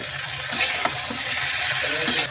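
Chopped garlic and dried red chilies sizzle hard in hot mustard oil, a dense steady crackle close by, with light stirring scrapes over it and no talk.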